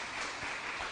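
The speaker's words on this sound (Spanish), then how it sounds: "Eso merece un aplauso al Señor Jesucristo." Congregation applauding during a church service, a dense steady wash of clapping across the whole short moment with no voices over it.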